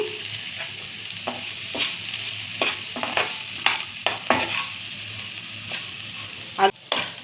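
Elephant foot yam with curry leaves sautéing in a pan, a constant hiss broken by a series of scraping stirs, fairly close and with no talking.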